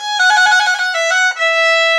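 A bright violin rapidly alternates between two close notes in a sustained trill, clear and close, with no voices.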